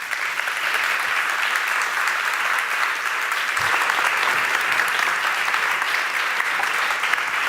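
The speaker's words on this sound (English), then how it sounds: "So give her a warm round of applause." A studio audience claps steadily to welcome a guest on a talk show about the Turkish elections, a dense and even wash of applause that holds at a constant level throughout.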